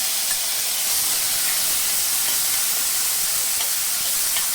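Tomatoes drop into hot oil tempered with fenugreek and asafoetida and set off a steady, loud, close sizzle. The hiss stays constant for the whole stretch, with no talking over it.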